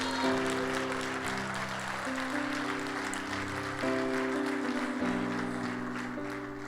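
A church congregation applauds while sustained organ or keyboard chords play underneath, the clapping and music continuing together for several seconds before easing slightly at the end.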